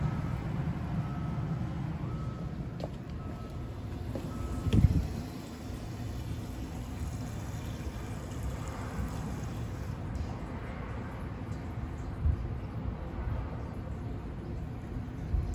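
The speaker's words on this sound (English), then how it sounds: "You're gonna keep activating it until there is no more fuel coming out of the fuel pump." A car's fuel pump runs under diagnostic activation to pump fuel out of the tank, making a steady low mechanical hum throughout with one brief louder bump partway through.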